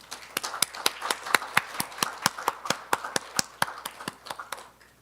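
A small audience at a symposium on low fertility and ageing gives a round of applause for a ministry data and statistics team: steady, fairly sparse claps with distinct individual hits, close and moderately loud, fading out at the end.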